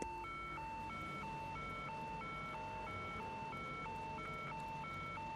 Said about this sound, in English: much like when it came to Viktor Novikov, what we're going to want to do is trigger the alarm and cause him to evacuate